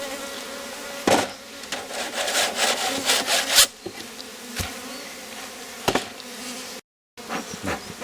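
Honey bees buzz around an open small-box hive set up with the Rose hive method while combs are handled, mixing a steady close hum with scraping and knocking from frames and tools, with a brief dropout near the end.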